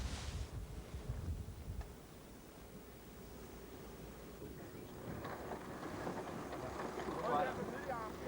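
Gale-force wind roars across a sailboat race, a broad steady rush of wind noise on the microphone. Water and boat sounds grow stronger toward the end, with no clear talk.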